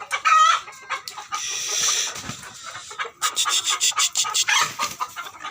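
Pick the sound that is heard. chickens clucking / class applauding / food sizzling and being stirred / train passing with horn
chickens clucking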